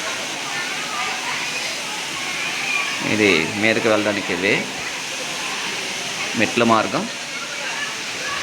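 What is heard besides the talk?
waterfall cascading down, Mettagoda waterfall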